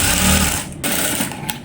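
A sewing machine stitches the seams of a pair of straight pants, a loud, close, rapid mechanical whir running almost continuously, with a brief halt near the middle before it starts again.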